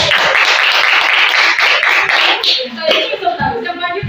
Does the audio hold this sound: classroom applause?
yes